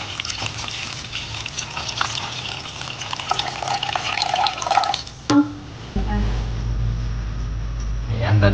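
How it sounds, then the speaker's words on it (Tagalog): Water poured into a cooking pot of pork nilaga with pork ribs and lemongrass, a continuous splashing pour with drips and clinks that ends abruptly, followed by a low bubbling hum, while a person talks over it. "Ayan, lalagyan po natin ng tubig"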